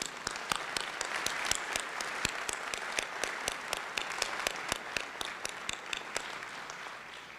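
Commencement audience at a Virginia Tech graduate school ceremony near Washington, DC clapping steadily, sharp individual claps standing out over a dense, even wash of applause throughout.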